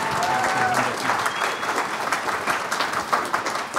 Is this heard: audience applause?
yes